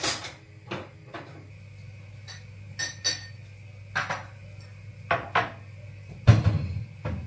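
Dishes, glasses and cutlery are unloaded from a home dishwasher: scattered clinks and clatters of crockery and metal set down one after another at close range, with quiet gaps and a low hum between them.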